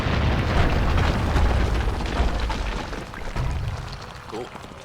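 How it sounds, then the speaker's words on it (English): Explosive crystals bursting in the action role-playing game Kingdoms of Amalur: Re-Reckoning, a loud rumbling blast that rolls on for several seconds before fading, with a smaller pop near the end. "Oh man, explosive crystals."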